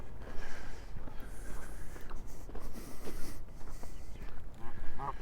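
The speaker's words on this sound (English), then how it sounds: "Random goose in a random place." Outdoors on a snowy sidewalk near Wascana Lake in Regina, a goose gives a few honks at moderate distance, the clearest near the end, over steady walking noise and outdoor ambience.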